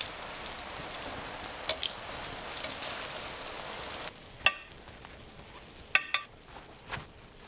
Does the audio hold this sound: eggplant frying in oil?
yes